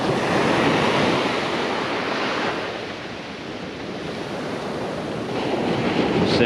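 Ocean waves wash steadily onto a beach, a loud, continuous broadband surf roar that swells and eases slightly, with no voices over it.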